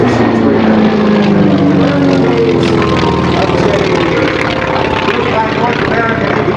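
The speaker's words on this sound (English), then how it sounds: "flying the T-28 Trojan, Joe Edwards approaches." A North American T-28 Trojan propeller trainer flies a demonstration at an air show, its radial engine droning loud and steady throughout while an announcer talks over it.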